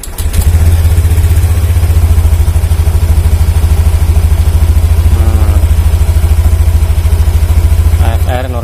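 Honda Beat 2021 scooter engine starts and settles into a steady, loud idle with a constant low throb, just after an ECU reset done with a scan tool; brief clatter near the end.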